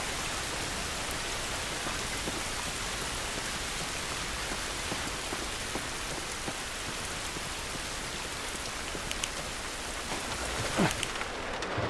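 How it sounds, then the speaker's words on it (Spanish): Steady rain falls in The Last of Us Remastered, a dense, continuous hiss of drops spread evenly through the whole stretch with no talking over it. "Esta lluvia no nos ayudará."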